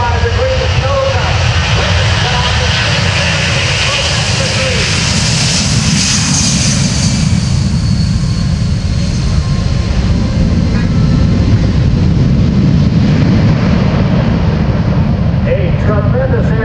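A C-17 Globemaster III jet aircraft roars overhead at an airshow, its loud, steady engine rumble filling the whole stretch with a broad, sweeping whoosh.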